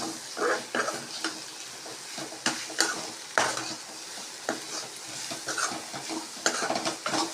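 Maggi noodles with masala get stirred in a pan, a run of irregular scraping strokes against the metal over a constant sizzle, close by and without talk.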